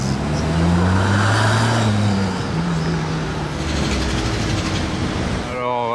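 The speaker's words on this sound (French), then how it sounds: "il a l'échappement sport là, au centre, les 4 sorties" A Bugatti supercar with a central sport exhaust of four outlets passes outside a casino in Monaco, its engine a loud, steady roar, with a low tone that shifts in pitch amid street noise before a faster rising whine near the end.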